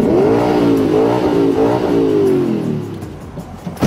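A Spyker C8 sports car engine pulls away under load, a loud, close, sustained rising drone that eases off over a few seconds and fades to lower mechanical noise.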